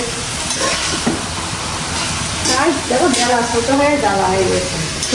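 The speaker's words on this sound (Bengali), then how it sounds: "ছোট মাছ তো এদিকে ভাজি করা হচ্ছে" Small fish frying in a kitchen pan, a loud, constant sizzling hiss with a few spatula knocks, while voices talk over it during the second half.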